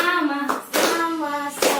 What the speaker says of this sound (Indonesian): yang lain tepuk tangan